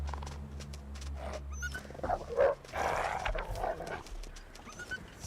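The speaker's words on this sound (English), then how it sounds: "Go take your barky bow wow elsewhere, okay?" A dog barks a few times near the middle, loud and close, after a low steady hum.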